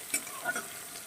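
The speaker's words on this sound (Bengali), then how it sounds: "চিংড়ি মাছটা একটু ভাজা হতে থাকুক" Prawns frying in a pan, a brief, quiet sizzle with a couple of soft scraping stirs close by.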